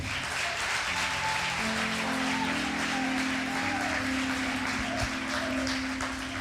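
Church congregation applauding during a worship service: continuous, dense clapping with sustained music tones underneath, even and moderately loud throughout.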